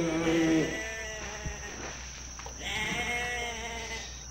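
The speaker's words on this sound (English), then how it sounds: "There's a goat. The goat does not know what it's getting into." A goat in the Jurassic Park: Operation Genesis video game bleats loudly once at the start, followed by a second, quieter drawn-out bleat, over a steady low ambient hum from the game.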